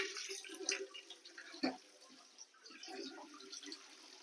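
Mojito compote poured from a pot into a wide bowl, a steady liquid splash with a brief heavier slosh partway through, close and moderately loud.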